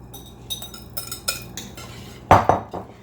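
Broccoli, onions, celery and carrots whisked into a cheddar broccoli soup mixture in a pot, heard as a few scattered scrapes and clinks of utensil against cookware, with two louder knocks near the end.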